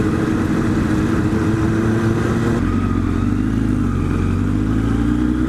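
Motorcycles roar close by on a road in a loud, continuous engine drone, with the pitch and tone shifting partway through as the bikes move.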